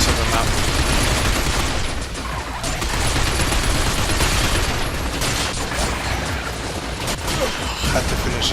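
Dense, continuous gunfire from the shooter video game Binary Domain, with rapid bursts and booms filling the whole stretch at steady loudness.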